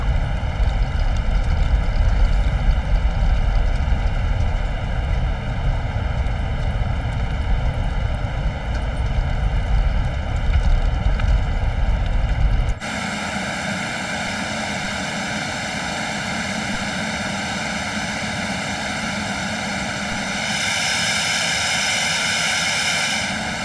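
Embraer Phenom jet engines in a flight simulator game, a loud steady whine and roar with layered tonal hum that drops abruptly to a thinner, smoother drone partway through.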